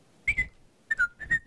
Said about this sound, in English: Sorry for whistling, this probably sounds really bad